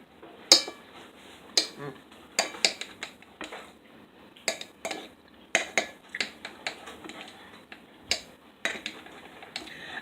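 A knife cuts through a keto French toast bread pudding in a dish, giving a string of sharp, irregular taps and clinks of the blade against the pan, close and without speech.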